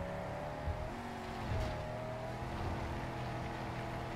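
A car engine drones steadily while driving in the video game Mad Max, with tonal engine hum, brief tire noise and slight pitch shifts, loud and continuous with no talk.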